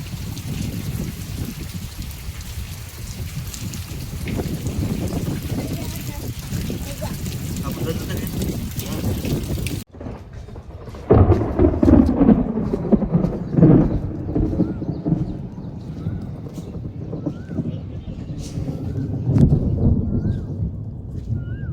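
Heavy monsoon rain pours steadily for about ten seconds, then eases to a lighter patter with people talking and low rumbles of thunder.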